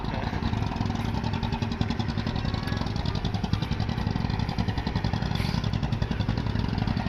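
A stone-carrying boat's engine chugs steadily and loudly on the Dhanu river near Khaliajuri in a haor wetland, a continuous rapid putter with clattering, heard alone.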